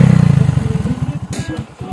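A motorcycle engine idles and chugs with a steady, pulsing low rumble on a snow-covered mountain road, close and loud, fading slightly toward the end with a brief clatter.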